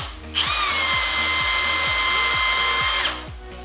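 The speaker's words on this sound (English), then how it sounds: "so of course I have to drill that." Power drill boring a hole in a pinball playfield: a loud, steady high whine that starts abruptly and holds for nearly three seconds before spinning down, over a rhythmic low clicking.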